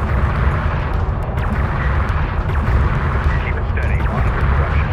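In the Homeworld: Deserts of Kharak video game, weapons fire hits a carrier. A continuous, loud, rumbling barrage of booms and bursts rolls without pause.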